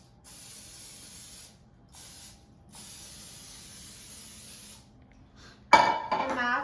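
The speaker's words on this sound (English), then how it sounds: "I'm going to spray it with a non-stick grease spray" Non-stick grease spray hisses into a bundt pan in three steady bursts with short pauses between, followed by a louder metallic clatter at the end. No one speaks.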